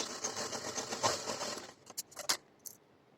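A sewing machine stitches a salwar: a steady, close mechanical whir for over a second, then a few separate clicks and taps as it stops, with no talking.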